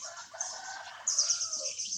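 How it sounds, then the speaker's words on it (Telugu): A rooster crows loudly nearby, a long rising call, with other fowl clucking and calling faintly in the background. "పుంజు సౌండ్లు"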